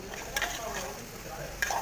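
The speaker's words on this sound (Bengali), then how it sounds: "যত ভালো করে নেড়ে চেড়ে সবগুলো একসাথে মিক্স করে নিতে পারবেন" Gourd and sea crab curry gets stirred in a pan, a steady sizzle broken by two sharp scrapes of the utensil against the metal.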